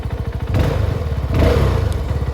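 A CF Moto 250 SR sport motorcycle engine is revved up close near the exhaust, its loud pulsing throb swelling in two short throttle blips over steady idle on a sloping road.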